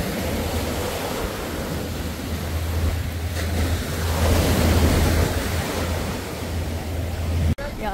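Ocean waves at Puka Beach, Boracay, a steady rushing surf with a swell building louder midway, close and continuous, mixed with wind noise, no talk.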